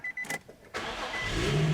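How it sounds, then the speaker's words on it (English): A car engine cranks in short bursts and then catches, settling into a steady, close running sound with no talk over it. "we're going to start the engine"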